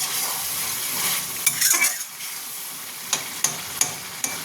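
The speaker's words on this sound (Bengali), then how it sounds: "এইভাবে কষবেন।" Chicken sautéing in a pan for a chicken and bottle gourd dish, sizzling steadily while a spoon stirs and scrapes, then a few sharp clinks of the utensil against the pan near the end.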